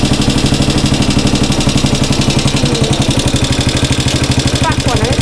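A motorhome runabout vehicle's engine runs close by at a steady idle, its regular low pulsing continuing throughout, with a few faint chirping sounds near the end.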